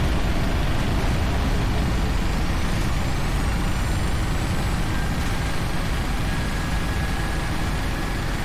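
A Jet2 Boeing 737-800 roars with thrust reversers after landing at Lanzarote in the Prepar3D v5.3 simulator, a loud, constant broadband rumble with faint whining tones, alone.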